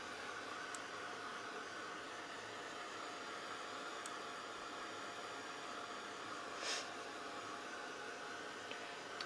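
A hair dryer blows steadily on a wet mixed media butterfly art piece, a constant broadband whooshing drone that runs unbroken from start to finish with no talking over it.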